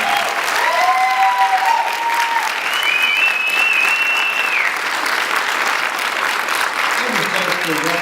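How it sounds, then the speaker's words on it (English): A large theater audience applauds James Randi, a loud sustained roar of clapping with some whistles and cheers rising above it, and a voice speaking briefly near the end. "Everyone, please give another big round of applause for Mr. Randi."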